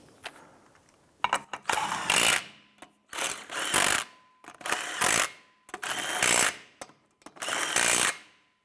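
Wheel lug nuts on a 2005-2007 Ford Five Hundred being snugged down by a power tool in five or six loud, close bursts, each lasting about a second and separated by short silences.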